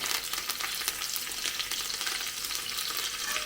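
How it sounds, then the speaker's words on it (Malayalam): Ginger, garlic and curry leaves fry in oil in a pan, giving a steady, close, continuous sizzle and crackle with no talking. "ഇഞ്ചിയും വെളുത്തുള്ളിയും ഒന്ന് മൂപ്പിച്ച് വരണം"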